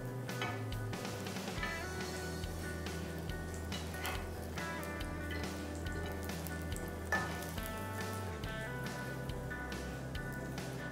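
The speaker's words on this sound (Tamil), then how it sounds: "தோசைக்கல் வச்சு அதில் எண்ணெய் ஊற்றி வச்சுருக்கேன்." Bun parotta frying in oil on a dosa griddle over low heat: a continuous soft crackling sizzle, close and steady, with faint ticking pops scattered through.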